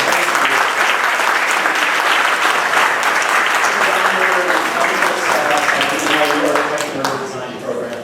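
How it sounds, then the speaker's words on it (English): An audience at a community planning event in New York gives a warm, sustained round of applause, dense and loud, with voices mixed in, tapering off toward the end. "So if we could all please give a warm round of applause."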